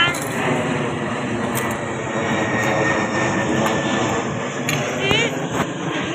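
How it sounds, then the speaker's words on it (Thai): Fixed-wing airplane passing overhead at an open outdoor spot, a steady broad engine roar filling the whole clip with a slight swell near the end, while people talk nearby. "แล้วก็เครื่องบินผ่านครับผมทุกวัน"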